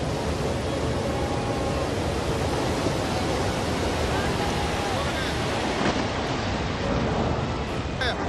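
A glacier-burst flood surges through Chamoli, Uttarakhand as a roaring torrent. The broadband rush is loud and constant from start to end, with wind buffeting the microphone.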